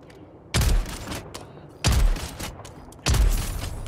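Shotgun fire in Helldivers 2: three heavy, booming blasts at a steady interval of just over a second, each followed by a brief rumbling decay, loud and close.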